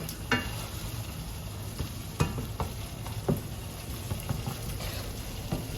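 Ground beef frying in a pan gives a steady, close sizzle with a few sharp clicks and scrapes from stirring. There is no talk.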